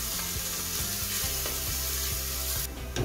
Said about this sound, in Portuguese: já vou começar a refogar o alho